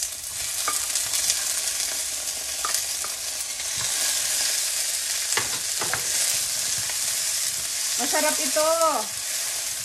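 Onions and tomatoes sautéing in a pan for a Filipino shrimp and mussel dish, a continuous close sizzle with scattered stirring clacks; a voice speaks briefly near the end.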